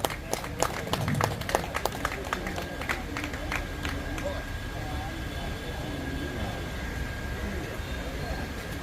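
An audience at a gym competition prize-giving applauds, a dense, steady wash of clapping that carries on under the event's sound. A few sharper claps stand out at the start.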